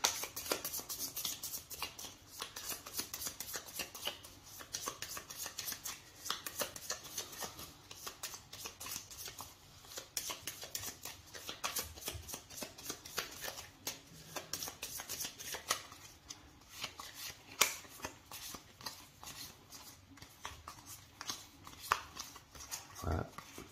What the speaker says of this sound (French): Voilà, et on va mélanger le paquet.